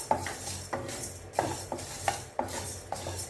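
Cardamom and black pepper dry roasting in a pan, stirred with a utensil that scrapes and knocks against the metal in a steady rhythm of about one stroke every half second, close and clear with no talking.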